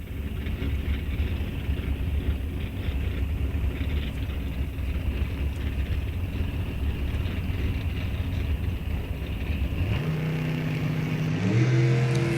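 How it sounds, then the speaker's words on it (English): A 1978 Kawasaki motorcycle revs loudly at a drag strip amid steady engine roar, then launches near the end with a sharp rising howl as it pulls away. "Filipiak on a 78 Kawasaki, and off they go."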